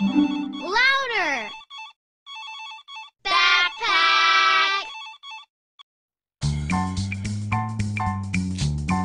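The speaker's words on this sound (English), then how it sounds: "I hear the phone ringing." Cartoon telephone ringing in a children's show: a trilling bell-like ringtone sounds in short bursts separated by gaps, followed by a louder musical passage.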